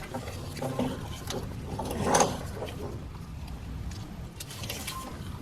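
A ratchet clicks in quick, uneven bursts as it tightens a nut on the starter grounding strap stud of a 2015+ Chevrolet Trax 1.4L Ecotec. Light mechanical rattles and taps from tight-quarters work surround it, with no talking.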